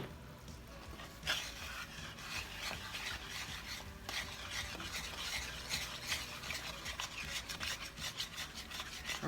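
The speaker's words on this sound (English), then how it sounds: "I'm gonna get it all good and stirred up here." Ground cinnamon stirred into apple pie filling in a bowl, a steady close scraping and rubbing of the spoon with repeated strokes, no talking.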